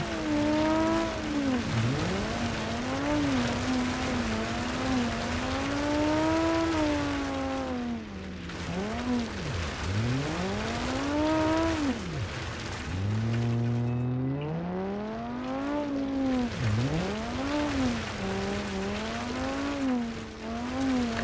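A rally car's engine in BeamNG.Drive revs loudly and continuously, climbing in pitch through the gears, dipping briefly at shifts and braking, then rising again, with faint tire noise and no talking.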